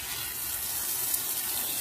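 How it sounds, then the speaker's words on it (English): Water runs steadily from a tap to water garden plants, a continuous close rushing flow with no voices. "And now you can just kind of water them."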